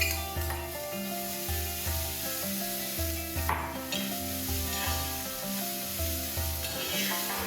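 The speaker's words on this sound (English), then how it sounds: "I'm going to add 2 bay leaves to this and 3 finely chopped onions. And I'm going to saute this till it's nice and translucent" Onions and bay leaves sauté in melted ghee, a close, steady sizzle broken by a regular rhythm of spoon strokes scraping and stirring through the pan, with no talk.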